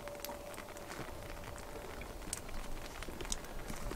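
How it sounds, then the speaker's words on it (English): Liquid patters and drips from an upturned bucket feeder set on a tree beehive, a soft, close, steady pattering like light rain. "turn the bucket upside down. It's going to rain for a minute until it gets that vapor lock"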